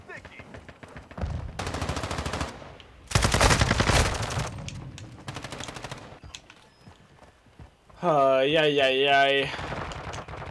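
Gunfire in Call of Duty: Modern Warfare 2 on a shoot house map, with loud sustained automatic bursts in several separate stretches, sometimes rapid and rattling, and an excited voice shouting between and over the shooting.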